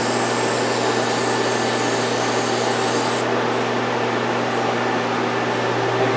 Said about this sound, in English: now we'll clean her all up with some brake clean.